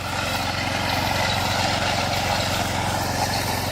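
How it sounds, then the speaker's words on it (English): A power trowel runs steadily on a fresh concrete slab at a California house build, a continuous mid-loud motor drone with a rhythmic buzzing pulse and no talk. "Power trowel running."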